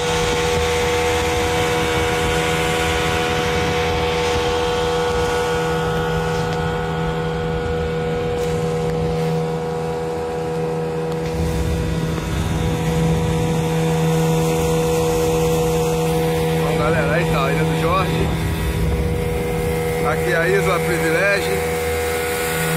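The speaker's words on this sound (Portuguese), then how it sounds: "O vídeo foi legendado por causa do barulho do motor do bote" Motor of a small boat off Angra dos Reis, a steady droning hum running throughout the clip, with people talking over it and the engine pitch shifting toward the end.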